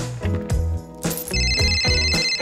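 A mobile phone rings with a loud, repeating melodic ringtone, several bright pulses in quick succession heard close by with no talking over it.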